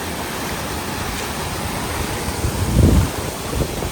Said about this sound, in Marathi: आणि इथे वॉटरफॉल आहेत.